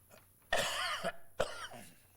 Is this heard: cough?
yes